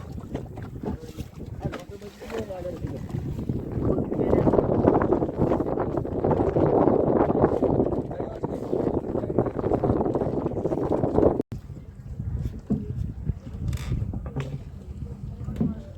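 A small boat moves through a canal in the Sundarbans with steady churning and lapping, wind buffeting the microphone, and people talking faintly now and then.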